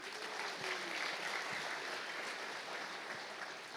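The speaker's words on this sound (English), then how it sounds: "Give y'all selves a round of applause." Steady audience applause at a leadership conference fills the room, a continuous dense patter of many hands with a few low thumps, sustained at moderate level throughout.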